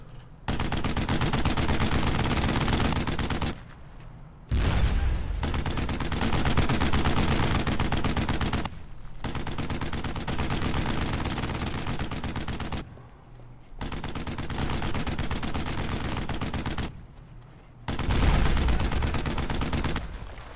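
Sustained machine-gun suppressing fire in the World War II shooter Brothers in Arms: Road to Hill 30, loud dense bursts lasting several seconds each, broken by short pauses, with no talk.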